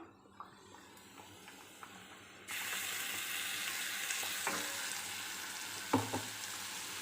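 Okra in a pan being stirred together with ground coconut paste for a vegetarian lunch dish, a quiet start giving way to steady loud frying hiss with scattered scraping clicks of the spoon.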